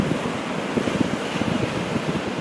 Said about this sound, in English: Waves will start coming up.